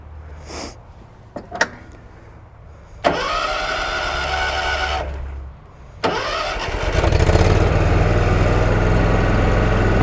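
A commercial Kawasaki engine on a John Deere Z920M ZTrak zero-turn mower cranks with a couple of clicks, catches briefly, stalls, then restarts and settles into a steady, loud running drone close by.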